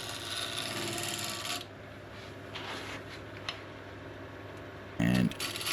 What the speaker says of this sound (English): just coming in for a quick scrape